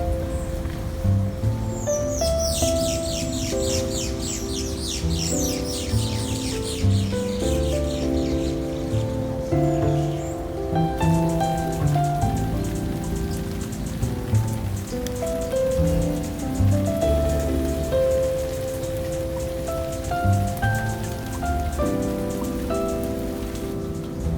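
Rain patters steadily on a surface while a tonal musical drone plays underneath, with brief chirping bursts early on.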